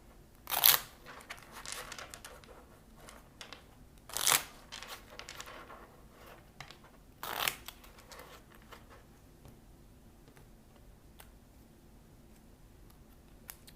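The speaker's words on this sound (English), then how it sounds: "I'm going to shuffle and see what information we get." A deck of tarot cards is shuffled in a few short, crisp riffling bursts separated by quieter handling and faint rustles, close and soft, with no talk.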